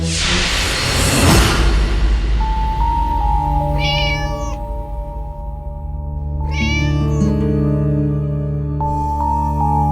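A cat meowing loudly and close by, two long drawn-out wailing meows following an opening whoosh, over a steady background music drone with no talking.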